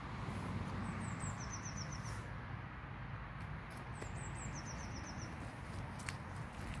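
Small birds chirp in short repeated trilling phrases, fairly faint, over steady low rumble of wind and distant traffic while walking through a nature reserve in a national forest in Leicestershire in February.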